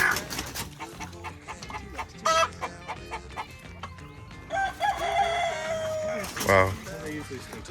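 Farm chickens cluck and a rooster crows loudly several times, with close, busy poultry noise throughout.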